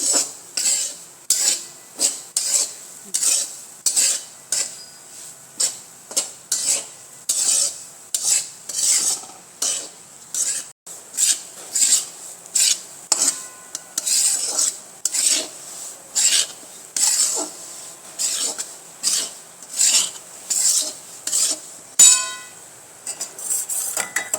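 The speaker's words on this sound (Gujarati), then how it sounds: "અને તેમાં આપણે આ દાણો પાડેલો લોટ છે ને તે શેકી લેવાનો છે" Coarse-ground flour being roasted in a pan for mohanthal over a low flame, stirred with a metal spoon: steady rhythmic scraping strokes against the pan, close and fairly loud, repeating throughout with no talking.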